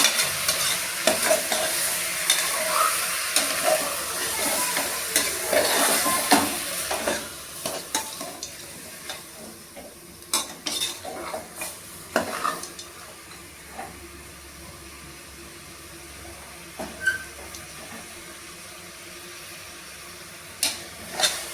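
Meat curry being stirred and fried in a pan, a steady sizzle broken by repeated scraping stirs, louder and busier early on and then thinning to sparse spatula clatter and a soft hiss.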